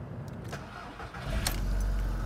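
A 96,000-mile VW Beetle convertible that failed its MOT starts up, the starter churning briefly before the engine catches and settles into a low, steady rumble close by.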